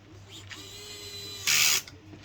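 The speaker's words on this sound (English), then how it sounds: "So I always want to turn that clutch on whenever you're using one of these drill drivers." A drill driver runs briefly while tightening screws on a Kyosho FAW217 HD motor plate, giving a short loud whirring burst over a quiet background and faint mechanical noise.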